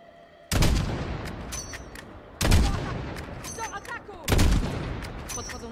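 Call of Duty: Modern Warfare gameplay with three sharp bursts of gunfire spaced a couple of seconds apart, each a loud booming crack with a trailing rumble and scattered rattling shots in between.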